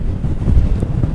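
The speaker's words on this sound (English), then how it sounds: "God, it's so windy." Strong wind on the Cheviot border ridge buffets the microphone with loud, low rumbling gusts for a brief moment.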